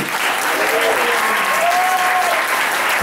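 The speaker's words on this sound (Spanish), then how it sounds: "fortísimo aplauso para Rogelio Conde" Loud, dense crowd applause for a birthday drag performer at a show, sustained throughout, with faint whistles or cheers rising briefly above the clapping.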